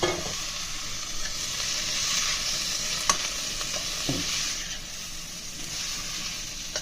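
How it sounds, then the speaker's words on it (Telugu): Chopped sorrel greens (chukka kura) tipped into a hot pan of garlic seasoning and stir-fried, a loud steady sizzle with a few sharp scrapes and knocks of a spoon, nobody speaking. "ఇప్పుడు మనం కట్ చేసి పెట్టుకున్న చుక్కకూరను వేసేసుకుందాం"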